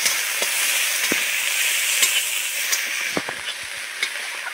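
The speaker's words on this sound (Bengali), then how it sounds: "তো বেটে রাখা পেঁয়াজ বাটাটা দিয়ে দেব গ্রেভির জন্য" Onion paste frying in a pan for fish curry gravy gives a constant loud sizzle, with a few taps and scrapes of a spoon toward the end.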